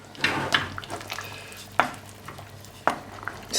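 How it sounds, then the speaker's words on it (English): A spoon stirs beef stew with red wine in a pot, making soft wet scraping and a few sharp clinks against the pot over a low background hum, close and without speech. "Let's give it a stir."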